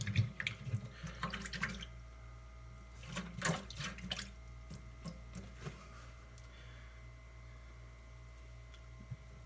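Water running and splashing in a sink while makeup brushes are rinsed, several bursts of trickling and dripping in the first few seconds, then fading to a quiet faint hum.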